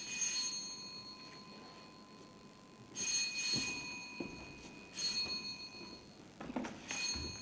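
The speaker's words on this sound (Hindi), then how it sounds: "फोन की घंटी बजी" A telephone rings in a home in a Hindi drama, faint repeated electronic bursts of ringing separated by pauses, over a low background hum.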